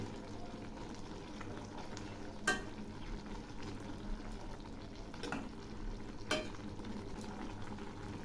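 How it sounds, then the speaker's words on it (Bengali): Shrimp stirred with cumin paste and ginger paste in a frying pan for a ridge gourd dish, a low steady sizzle with a few sharp scrapes and clinks of the spoon against the pan. "এর মধ্যে দিচ্ছি চিংড়িগুলো হালকা করে একটু নেড়ে দিচ্ছে"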